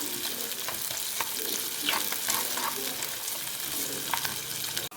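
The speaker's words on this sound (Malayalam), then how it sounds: "ചെറിയ ഉള്ളി നമ്മൾ എടുത്തു വെച്ചിരുന്നത് നന്നായിട്ട് സ്ലൈസായി അരിഞ്ഞത് ഇട്ട് നന്നായിട്ട് വഴറ്റാം" Sliced small shallots sautéing in a pan for a Kerala kudampuli fish curry, a constant hissing sizzle with occasional stirring scrapes and small pops, close and steady, cutting off abruptly at the end.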